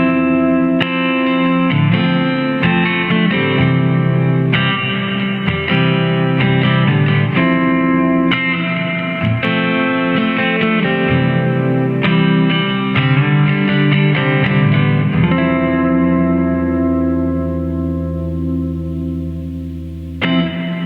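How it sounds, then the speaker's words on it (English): Electric guitar through an MXR M300 reverb pedal on plate reverb mode: strummed chords and picked notes ring out with lush, long washy tails, loud and close, fading into a trailing decay at the end, with no talking. "So let's start at the top and work our way down, starting with the plate reverb."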